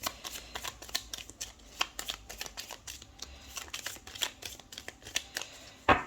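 Tarot cards are handled and drawn from a deck, making a rapid run of crisp paper flicks and riffling snaps, ending in a louder slap near the end.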